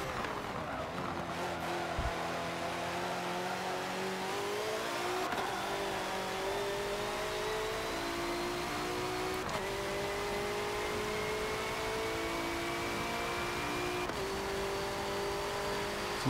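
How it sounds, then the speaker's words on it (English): A BMW M6 GTLM race car in Forza 7 accelerates hard, its engine note climbing in pitch, dropping at each gear change and climbing again, several times in a row, steady and close with no talk. "You hear that BMW power just going."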